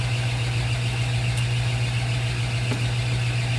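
A metal lathe turns a bolt shank for a carriage stop clamp, dressed with cutting oil. A steady, continuous motor hum with a low drone and broadband noise runs close and even, with no talking.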